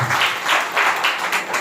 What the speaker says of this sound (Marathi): मग जोरात टाळ्या वाजवून प्रभू येशूला.